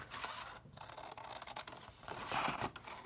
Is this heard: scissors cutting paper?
yes